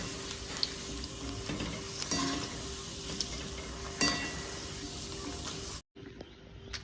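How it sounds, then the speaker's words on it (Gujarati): Raw banana wafers fry in oil with a steady, faint sizzle and hiss. Occasional sharper pops and clicks punctuate it, and it runs almost continuously before a brief drop near the end. "આવી રીતના આપણે વેફર તળી લઈશું, થોડી બદામી કલર જેવી થવા દઈશું"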